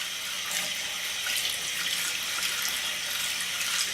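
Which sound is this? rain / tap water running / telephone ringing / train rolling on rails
tap water running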